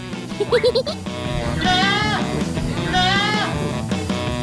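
Goats in a clean teak-wood pen with a tiled floor, giving several wavering bleats: a quick stuttering series of cries early on, then two longer drawn-out calls over a murmur of background noise.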